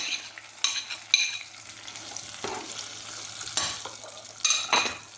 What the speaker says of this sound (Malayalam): അരച്ചെടുത്ത ബദാം നമുക്കിട്ട് കൊടുക്കാം ബദാം ഇട്ട് വഴക്കി കൊടുക്കുക